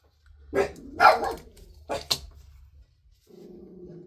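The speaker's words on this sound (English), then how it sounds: "I apologize if you can hear my dogs barking." Several sharp dog barks come in quick bursts, fairly close, followed by a brief low growl-like rumble and quiet pauses.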